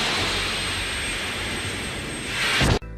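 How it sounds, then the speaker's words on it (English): A C-17 military jet departing Edinburgh, its engines making a loud, steady roar that swells toward the end and then cuts off abruptly. "C-17 departure from Edinburgh."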